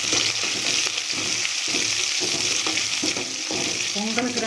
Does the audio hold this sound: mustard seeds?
yes